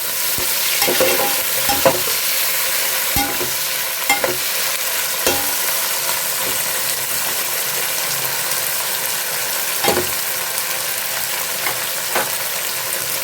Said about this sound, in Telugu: కొద్దిగా కలుపుకుందామండి అట్లా